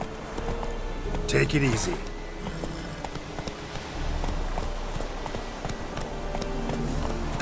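Roach the horse galloping in The Witcher 3, a steady run of hoofbeats with a clear rhythmic clip-clop throughout, while someone speaks briefly over it.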